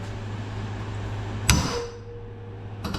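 A single sharp metallic hammer strike on a socket over a cylinder head valve spring rings out mid-clip over a low mechanical hum, followed by a lighter tap at the end.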